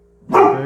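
A single sharp bark from a house dog sitting nearby, loud and close, rising suddenly after a brief quiet and ringing out for a moment, with a short spoken word just before it.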